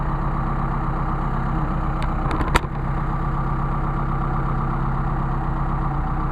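Steady engine idle fed by Solex 44PHH carburetors, a continuous low, even rumble close by with one brief sharp click or tap midway; no voices.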